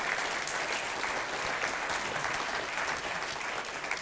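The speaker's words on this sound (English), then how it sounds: "that deserves a big round of applause" A conference audience breaks into sustained applause, a steady, even roar of many hands clapping at once, moderately loud and unbroken for the whole stretch with no talking over it.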